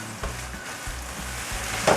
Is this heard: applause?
no